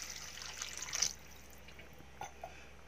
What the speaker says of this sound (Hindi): 1 गिलास पानी डाल देते हैं इसमें